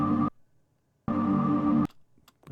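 Dry, unprocessed synth pads from a trip hop beat, heard as two sustained chord bursts separated by a short silence, fairly loud and alone, with faint clicks trailing after.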